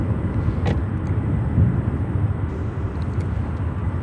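A United Express Embraer 175 regional jet arrives at Chicago O'Hare from Cincinnati. Its engines make a steady, moderate rumbling roar for about four seconds, with a brief faint higher tone near the start and no voices.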